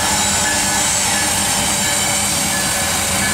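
CSX freight train led by a Tier 4 EC44AH with an AC44 and an SD40-3 in tow rolls past on the SH line at Hamlet Terminal, a loud steady wash of rumbling railcar noise throughout.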